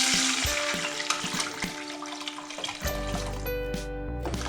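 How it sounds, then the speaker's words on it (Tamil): Tamarind water mixed with pepper, cumin powder and tomato is poured steadily into a pan for rasam, a continuous liquid splashing with small knocks, close and moderately loud. "புளி தண்ணியில மிளகு, சீரகம் பவுடரு, தக்காளி எல்லாம் அதை இதுல ஊற்றிடலாம்"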